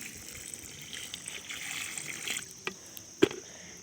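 Water is poured slowly into a small garden pond on its first fill, making a faint, continuous trickle that ends with a couple of sharp little knocks.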